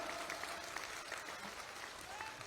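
Audience at a large public rally in India applauds in a dense, sustained burst of clapping from a big crowd, loud and even throughout with a faint murmur of voices mixed in.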